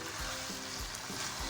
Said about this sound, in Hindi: हाई फ्लेम पे सिर्फ हम 1 सेकंड के लिए इसको 1 से 2 सेकंड के लिए फ्राई करेंगे हाई फ्लेम पे